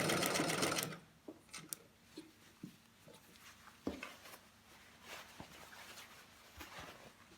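A sewing machine stitching a hidden bias along a collar runs in a loud, fast burst for about a second, then falls to sparse clicks and taps as the fabric is handled nearby.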